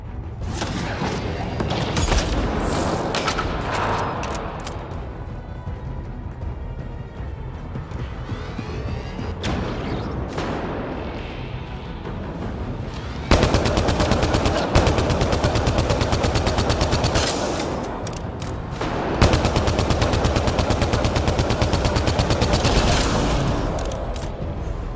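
Sustained gunfire from a Mass Effect Andromeda battle, with rapid automatic bursts and loud booming shots that build to dense, heavy volleys in the second half.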